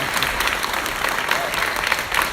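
An audience claps and cheers at a live legislative theatre event, a dense steady wash of applause filling the room with some voices mixed in.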